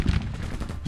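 Musket volley from a brigade of Civil War infantry in a strategy video game, a short burst of low booming gunfire that rolls into a dense, rumbling crackle lasting under a second.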